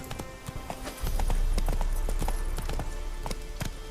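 Horse hooves clip-clopping in The Witcher 3: Wild Hunt, with rapid rhythmic close hoofbeats over a steady rumble of movement and ambient game sound.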